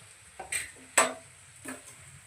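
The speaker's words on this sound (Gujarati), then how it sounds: "શાક કરે છે ભાજીનો વઘાર" Leafy greens are tempered in a hot pan on a home stove, giving three short bursts of hiss and clatter, the middle one loudest, separated by quiet gaps with a low hum under them.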